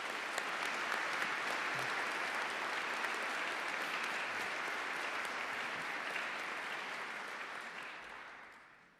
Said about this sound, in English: So please join me in giving our campus leaders a round of applause.